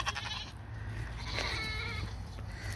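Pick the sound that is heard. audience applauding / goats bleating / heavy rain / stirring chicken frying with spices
goats bleating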